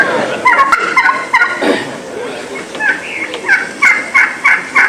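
A strutting, full mature wild turkey gobbler gobbles loudly and close by outdoors, letting out a rapid run of rattling gobbles that keep repeating in bursts throughout.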